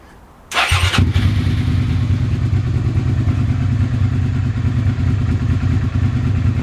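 A Suzuki SV650S motorcycle engine, under repair after breaking down, cranks briefly with a rattly burst, then catches and settles into a steady, loud idle that runs on evenly.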